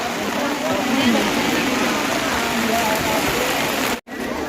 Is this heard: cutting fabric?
no